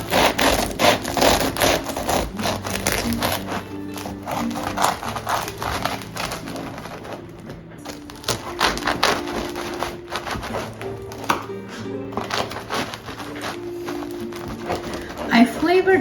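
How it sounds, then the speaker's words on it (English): A knife saws back and forth through a crusty loaf of rosemary olive sourdough bread in repeated rasping, crackling strokes, close and continuous for several seconds with faint music underneath. "I'm going to cut a slice so you can see it."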